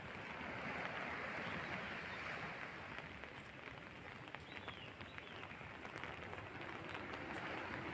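Rain falls at Repulse Bay Beach in Hong Kong on an overcast day, a soft, even hiss of drops with a low rumble of surf and wind underneath, fairly faint and unbroken.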